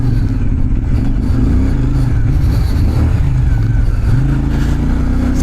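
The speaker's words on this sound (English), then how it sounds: "Very torquey engine." Moto Morini Vettore 450 motorcycle's torquey engine pulls steadily under acceleration, a loud continuous low drone with rising pitch near the end, riding off-road and street terrain with no talk.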